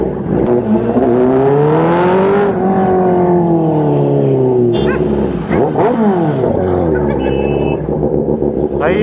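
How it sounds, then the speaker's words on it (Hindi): A Kawasaki ZX-10R motorcycle revs and rumbles through a Jaipur street while dogs bark at it, the engine's rising and falling whine loud and close with sharp barks cutting in over it. "भाई, ये कुत्तों की बड़ी प्रॉब्लम है यार।"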